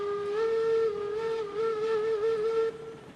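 In Railroads Online, on the Gold Rush map, a steam locomotive whistle sounds one sustained, fairly loud tonal blast of about two and a half seconds, wavering slightly in pitch before cutting off over a low background rumble.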